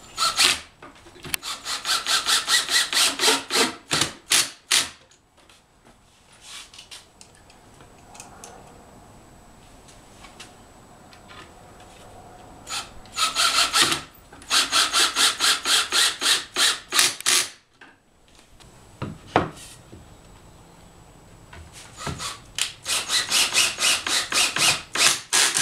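Gold 2-inch screws are driven into countersunk holes to mount legs on a used oak wine barrel table, bursts of rapid ratcheting drill buzz separated by quiet pauses, close and crisp.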